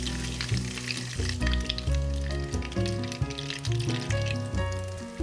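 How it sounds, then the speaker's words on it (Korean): Butter browning and sizzling in a pan over low heat while being stirred, a steady close frying crackle with rhythmic scraping strokes throughout. "너무 센 불에서 가열하면 탈 수 있으니 약불에서 천천히 잘 섞어가면서 이렇게 만들어주세요."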